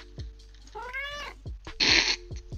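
A cat-like dinosaur creature in a video game gives a drawn-out meow, then a harsh hissing snarl, with soft thumping footsteps in between.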